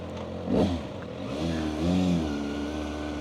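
A 2025 Kawasaki ZX6R sport bike pulls away in first gear, a brief throttle blip followed by a rising, steady engine drone that swells again midway, close and fairly loud with no talk over it.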